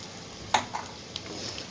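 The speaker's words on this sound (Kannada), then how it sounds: "ಸೊ ಇವಾಗ ನಾನು ತೆಗೆದಿಟ್ಕೊಂಡಿರೋಂಥ 1 ಕಪ್ ರವೆನ ಆ್ಯಡ್ ಮಾಡ್ಕೊಳ್ತಾ ಇದ್ದೀನಿ. ಈ ಒಗ್ಗರಣೆಗೆ ಆ್ಯಡ್ ಮಾಡ್ಕೊಳ್ತಾ ಇದ್ದೀನಿ ಇಲ್ಲಿ." Semolina being stirred into hot onion-and-spice tempering in a pan, a soft dry sizzle with a few sharp spatula scrapes and taps over less than two seconds, close and fairly quiet.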